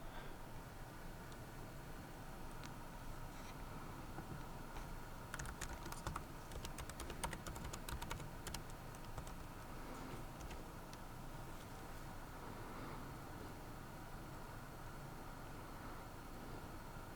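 Someone types a password on the keyboard of a Lenovo Yoga Slim 7 laptop during Windows 11 setup, producing a quiet, irregular patter of soft key clicks with a brief quicker flurry midway, no speech.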